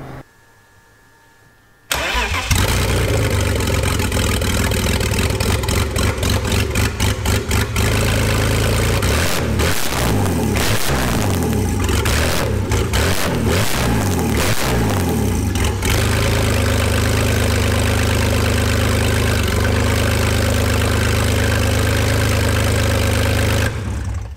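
A BMW M52TUB28 engine in a swap project, running with a nearly complete exhaust line refitted and the mass airflow sensor disconnected, cranks and catches after a quiet moment, then settles into a loud, steady, close-up idle with slight fluctuations.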